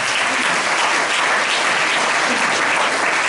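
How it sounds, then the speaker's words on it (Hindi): Steady, dense clapping from a church congregation during a Hindi worship service, continuous and loud throughout with no gaps or speech over it. "उसके नाम के लिए ताली बजाएंगे"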